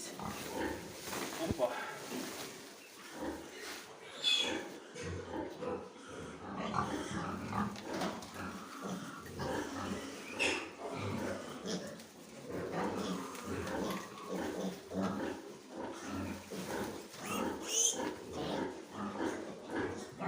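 Kantor-cross piglets squeal and grunt almost continuously up close in a pen while being handled for sale, with people talking throughout.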